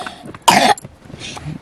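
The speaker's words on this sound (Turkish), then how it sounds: "Göbek açık ama köhür köhür öksürüyorsun." A single sharp, close cough bursts out briefly amid quiet room sound, with faint murmuring before and after.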